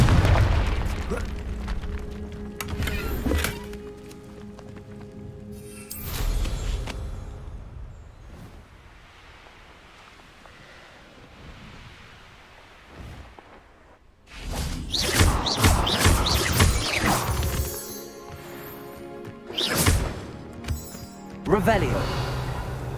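Fiery explosion spells bursting in the Hogwarts Legacy video game, with booming blasts and whooshes at intervals, loudest in a dense cluster in the later part, over a rumbling game soundscape.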